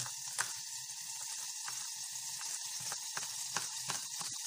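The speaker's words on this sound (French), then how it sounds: "on entend le beurre qui est en train de crépiter sur le gaz" Soft, steady sizzling and crackling of butter in a hot pan on a gas stove, quiet and continuous with a few sharper pops.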